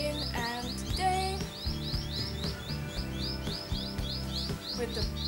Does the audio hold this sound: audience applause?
no